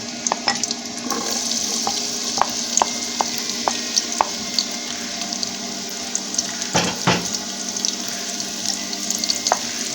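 Onions and leeks frying in a pan, a continuous close sizzle punctuated by scattered pops and spatula taps, with a couple of louder knocks partway through and no talking.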